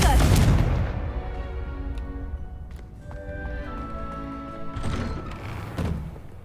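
Confringo blasting spell in Hogwarts Legacy, heavy booming explosions with deep thuds, one loud burst at the start and further blasts later, with a voice speaking between them.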